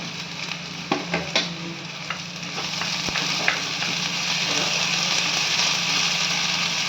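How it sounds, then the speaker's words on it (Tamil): Onions sautéing in a pan for egg chukka, a continuous close sizzle and crackle with a few sharp stirring clicks near the start, the frying hiss building slightly and holding steady. "வெங்காயம் கொஞ்சம் வதங்கட்டும் கொஞ்சம் இஞ்சி பூண்டு பேஸ்ட் போட்டுக்கோங்க"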